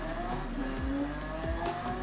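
A Lamborghini in a racing video game accelerates, its engine droning steadily with rising whines and brief tire-like sweeps, loud and continuous throughout with no voices.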